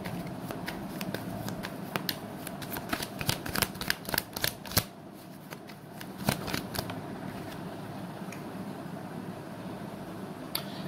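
Tarot cards shuffled by hand, with rapid crisp riffling bursts and snapping flicks repeating through the first half and again briefly later, close and fairly loud over a steady room hum.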